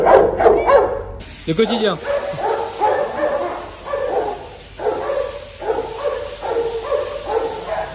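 Police dogs barking from a cage in a police vehicle at a French canine unit, with repeated sharp barks in bursts over several seconds, loud and close, alongside talk and a brief spray-like hiss at the start.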